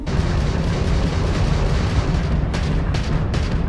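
Homing missiles striking an enemy starship in the space game Starfield, a loud, dense rumble of explosive booms with several sharper bursts near the end, up close and with no voices.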